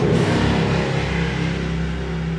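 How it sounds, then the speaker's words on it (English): A loud motorcycle engine drones steadily nearby during work on a rusty truck door, a continuous rumbling roar with no talk over it. "Loud motorcycle screwing up my filming."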